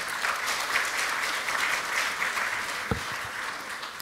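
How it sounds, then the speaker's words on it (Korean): Audience applause at a Democratic Party ceremony marking the 20th anniversary of the June 15 inter-Korean declaration, welcoming party leader Lee Hae-chan: steady, dense clapping filling the hall at moderate level, unbroken for the whole stretch. "힘찬 박수로 모시겠습니다"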